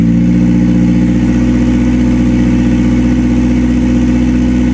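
A race car engine running on E85 fuel idles loud and close just after a cold start, a steady, lumpy low rumble with a rhythmic pulsing throb and no speech.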